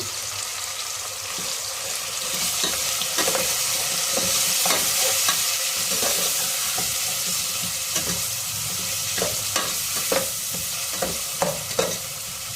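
Mutton with fenugreek leaves and turmeric sizzles steadily in hot oil, with a spoon scraping and stirring the pan in repeated sharp strokes over a continuous frying hiss; no one speaks.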